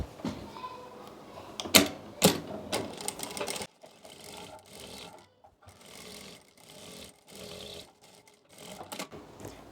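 A sewing machine stitches a kurti seam in short, choppy bursts of clattering, starting with a few sharp clicks and then running in intermittent runs with brief stops.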